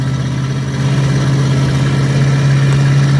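An RV engine drones loudly and steadily with a deep hum while creeping through Orlando interstate traffic at about 15 miles an hour, unbroken for the whole stretch.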